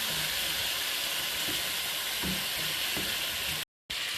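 Chicken with masala sautés in a karahi with a loud, continuous hissing sizzle, broken by occasional soft stirring knocks and a brief dropout near the end.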